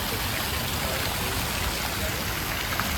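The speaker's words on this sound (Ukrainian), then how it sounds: "Трошки крапають краплі дощу." Light rain falls in the daytime streets of Nice, France, heard as a steady, dense hiss of drops that stays constant throughout, near and even, with no clear voices.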